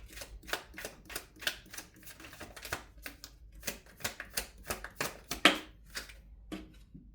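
Tarot cards being shuffled by hand, a run of quick crisp riffling bursts and soft slaps in an uneven rhythm, close and fairly quiet, with no talking.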